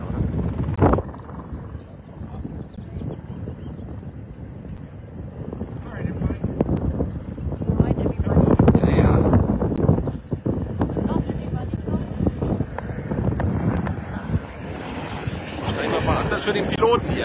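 A single-engine small plane takes off for a sightseeing flight from Las Vegas, its engine droning and rising amid wind buffeting. People talk over the sound.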